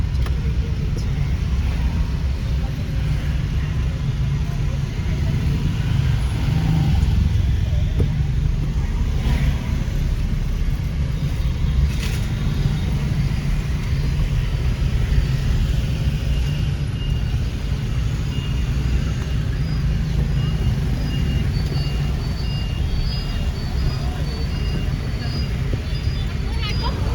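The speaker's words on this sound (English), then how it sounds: "I'm riding in a taxi. I just wanted to show you this crazy drive here." Inside a taxi moving through busy city traffic in Hai Phong, a constant loud road and engine rumble fills the cabin, with surrounding vehicle noise and faint murmuring blended into the steady drone.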